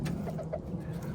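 Buck gray gamefowl roosters cluck in short, close bursts, a few soft calls over a brief moment with no talking.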